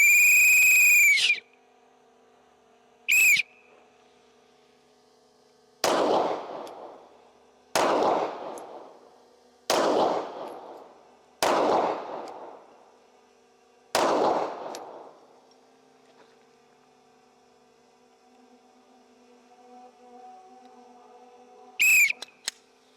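A whistle blast opens, then a short whistle, then six sharp gunshots at steady intervals, a final short whistle closing the sequence; loud and close, at a shooting range.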